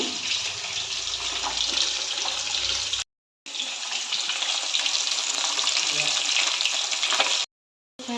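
Fish fries in a pan of hot oil with a steady, dense sizzle that runs on and cuts out abruptly twice in brief gaps.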